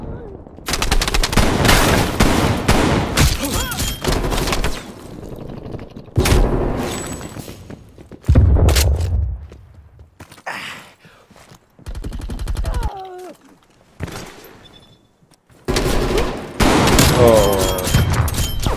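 Rapid bursts of gunfire from a shooting video game, loud repeated volleys separated by short quiet gaps, with someone talking between some of the bursts.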